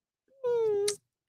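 A cat gives one clear, drawn-out meow, close and fairly loud, with a short noisy burst at its end.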